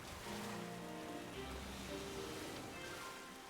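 Steady rain from the video game Pokemon Violet hisses continuously at an even, fairly loud level, like a dense downpour on a surface.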